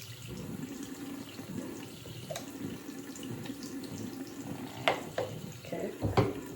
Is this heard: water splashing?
yes